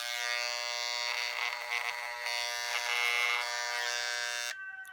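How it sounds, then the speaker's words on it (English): Electric clippers buzzing steadily outdoors while shaving off a beard, a close, bright continuous drone with slight changes in load as they cut, ending abruptly when switched off. "So here I am outside shaving my beard off"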